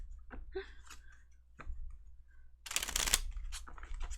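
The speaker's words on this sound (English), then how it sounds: "Why is it so loud when I shuffle these cards?" Cards being shuffled: a few soft clicks and taps, then a loud riffling burst, followed by more light card handling.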